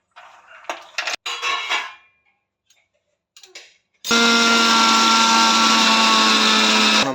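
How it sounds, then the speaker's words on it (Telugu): A mixer grinder whirs into loud, steady grinding of cashews and almonds into a fine powder for dry fruit laddu, preceded by a few seconds of clinking and handling of the jar. "మనం మెత్తగా అయ్యే విధంగా మనం మిక్సీ పట్టుకోవాలి"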